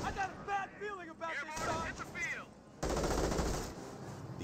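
Machine gun fire in the World War II strategy game Company of Heroes, with rapid bursts and heavy blasts under a commentator's voice, ending in a loud sustained rattle of gunfire.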